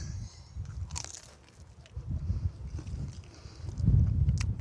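Close, loud crunching bites into a toasted tortilla filled with corned beef and cheese, followed by chewing, with wind noise outdoors.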